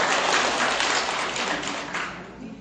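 An audience at a gathering in Nowon-gu bursts into dense, steady applause that fades slightly toward the end, with no talking.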